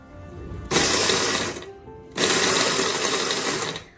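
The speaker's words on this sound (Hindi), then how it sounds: "मैं ग्राइंडर से ग्राइंड कर रही हूँ" An electric grinder blitzes golden brown fried onions in two loud, harsh whirring bursts, each about a second and a half, with a short pause between them.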